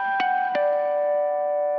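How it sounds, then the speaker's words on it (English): Chiming natural harmonics on an acoustic guitar's strings: two plucks set off bell-like tones that ring on and overlap, sustaining alone and slowly fading. "right after that, you hear a series of harmonics that sounds like this"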